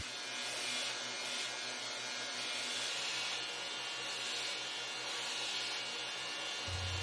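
A belt grinder on a slack belt setup running 36 grit ceramic belts against a mini hatchet, giving a steady, continuous abrasive hiss and whir throughout with no pauses.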